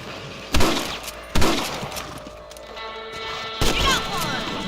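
Rifle shots crack out during rabbit hunting in Red Dead Redemption, three sharp loud blasts spread over a few seconds amid game sounds, with voices talking between them.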